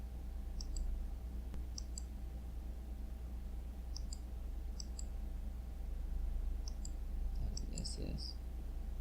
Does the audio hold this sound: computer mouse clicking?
yes